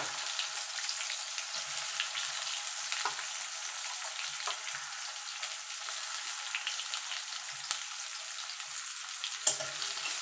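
Chopped onions sizzle and crackle in hot oil, a steady frying hiss with occasional pops and soft stirring, close by and without talk.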